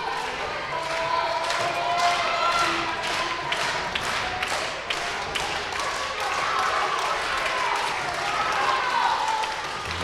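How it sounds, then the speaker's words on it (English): An audience at a wrestling title match claps in quick, rhythmic bursts that continue throughout, with a commentator talking over the crowd noise. "when people are clapping for Gabe"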